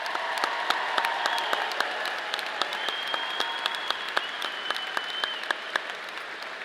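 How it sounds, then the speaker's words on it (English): An audience at an engineering college commencement applauds newly commissioned military officers, a steady, fairly loud wash of many hands clapping with sharper individual claps standing out, sustained throughout. "Let's give these newest officers a round of applause."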